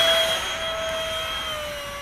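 Freewing F9F Panther RC electric ducted-fan jet on a 4-cell battery, throttled back slightly: a steady whining roar with high tonal lines gliding slowly downward, fairly loud and continuous with no talk.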